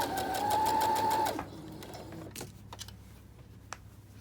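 A sewing machine runs a continuous stitching burst for about a second while sewing a garment's underarm and side seam, then stops, leaving quiet handling noises and faint clicks.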